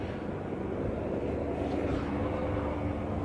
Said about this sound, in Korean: 오늘 아침 5시쯤부터 헬기 57대를 현장에 다시 투입해 진화에 나섰습니다.